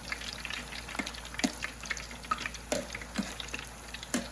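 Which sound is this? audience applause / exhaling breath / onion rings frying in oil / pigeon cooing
onion rings frying in oil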